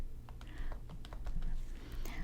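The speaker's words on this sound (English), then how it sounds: "we can double click to start typing in it" Computer keyboard typing while laying out a custom yearbook cover design, a quick run of light, irregular key clicks close to the mic over a soft background hum, with no talk.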